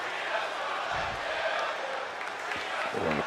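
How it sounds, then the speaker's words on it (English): Arena crowd noise from the WWE 2K22 wrestling video game, a steady loud roar of many voices that stays dense and continuous throughout, with a few low thumps and no clear speech over it. "And the crowd chanting, Rhea's gonna kill you."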